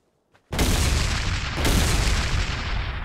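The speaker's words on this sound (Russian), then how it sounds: "Так, два выстрела есть." Heavy video game gunfire in ARK: Survival Evolved suddenly booms in after a near-silent start, with a second loud blast swelling the roar soon after.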